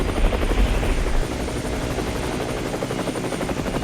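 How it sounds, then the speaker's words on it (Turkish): Helicopter in the Roblox game Mad City, a steady loud rotor drone with engine buzz that runs continuously through the whole stretch, slightly stronger at the start. "Biraz helikopter yükselteyim şöyle."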